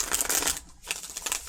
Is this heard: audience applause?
no